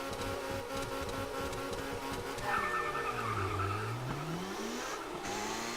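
A race car in the video game TOCA Race Driver 3 revs at the start and accelerates with a rising engine pitch, tires briefly squealing, alongside other cars droning steadily around it at moderate loudness.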